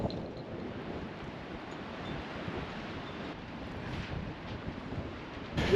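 Steady wind buffets a microphone on an open beach by the sea, a broad continuous rumble with gusts rising sharply at the very end, no voices.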